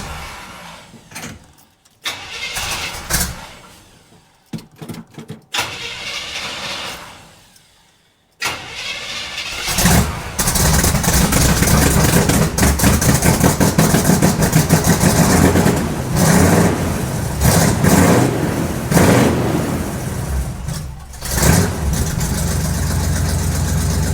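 A square-body truck engine cranks a few times, catches with a loud roar, then settles into a steady, rumbling idle that runs on for a long stretch with slight rises in revs.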